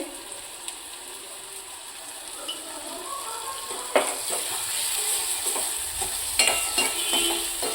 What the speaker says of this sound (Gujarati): હવે આના ટમેટા સોફ્ટ થાય ત્યાં સુધી આપણે સાતરશું